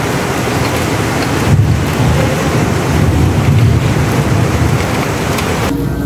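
Steady roaring wind buffets the microphone beside the water in the evening, a broad continuous rush with gusts swelling midway and no voices.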